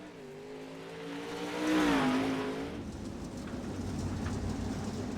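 A race car accelerating out of pit road at Oswego, the engine note rising and falling at a distance over steady background noise, no talking.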